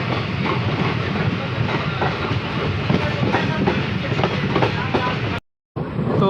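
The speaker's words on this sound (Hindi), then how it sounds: "तो हमारी ट्रेन निकल चुकी है जहांगीराबाद राज रेलवे स्टेशन से।" Passenger train on an Indian railway, an inaugural service out of Jahangirabad Raj station near Gonda, rumbling steadily on the rails with rhythmic clickety-clack, loud and close throughout, with a brief dropout near the end.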